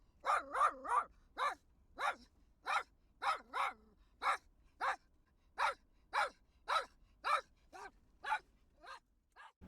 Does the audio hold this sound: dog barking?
yes